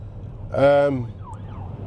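A police car siren sweeps past briefly, loud for a moment and then fading, over road noise from a car.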